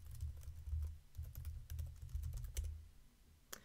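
Quick bursts of keystrokes on a computer keyboard as a Redis command is entered, close and fairly quiet, with short pauses between clusters and a final sharp key press.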